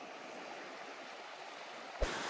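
Water runs steadily at the mouth of a creek where it meets a beach, a broad, even rushing wash heard from nearby, with one brief thump near the end.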